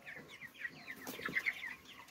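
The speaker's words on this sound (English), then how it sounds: "That's one of the common fowl chickens." Young 28-day-old common fowl chickens on a farm give faint, scattered high peeps and soft clucks that come and go against quiet outdoor background noise.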